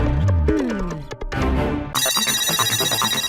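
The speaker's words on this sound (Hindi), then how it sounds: "हाँ मेरा फोन बज रहा है" A phone ringtone plays loudly with a bright, repeating electronic melody, preceded by a short sliding musical sting in a comedic television scene.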